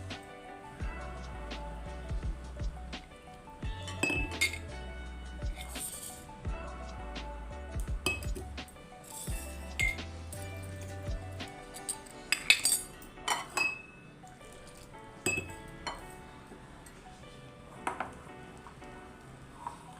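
A spoon clinks and scrapes in a bowl while dough is mixed with red chili powder, salt and oil, giving quiet, irregular knocks and taps with soft rubbing in between.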